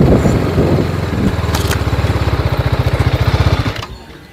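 A TVS Apache RR310 motorcycle engine pulls in third gear while riding, a loud, close, rapid pulsing throb that rises in pace, then cuts away sharply near the end.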